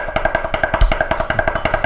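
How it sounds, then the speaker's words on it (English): A snare drum roll of rapid, evenly spaced strokes, each double with a louder first note and a quieter tap after it, played close and alone. "rather than just having it so that your rolls sound like this"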